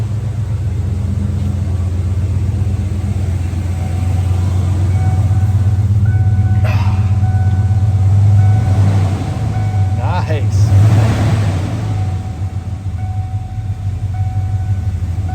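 A 1994 Ford Bronco V8 with a cat-back exhaust burbles in a mellow, steady low rumble up close, swelling briefly a couple of times, while a person talks over it.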